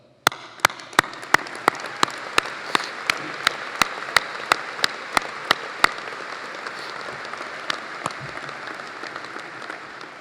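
Applause fills a hall at an apprentice contest completion ceremony, a steady wash of clapping broken by evenly spaced sharp cracks that fade out after about six seconds.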